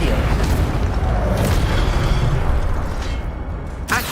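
Incendio fire spell cast in Hogwarts Legacy, giving a loud whooshing, rumbling burst of magical fire that fades, with a sharp crackle near the end.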